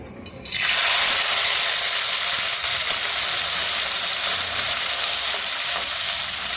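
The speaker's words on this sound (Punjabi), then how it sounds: "ਮੂੰਗਰਿਆਂ ਨੂੰ ਆਪਾਂ 2 ਮਿੰਟ ਵਾਸਤੇ ਇਹਨਾਂ ਨੂੰ ਆਪਾਂ ਫਰਾਈ ਕਰ ਲਵਾਂਗੇ" Radish pods (mungre) dropped into hot mustard oil burst into a loud, dense, continuous sizzle that holds steady close by after a brief quieter start, with no talking over it.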